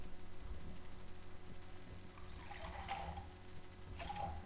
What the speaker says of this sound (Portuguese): e vou colocar água à temperatura ambiente.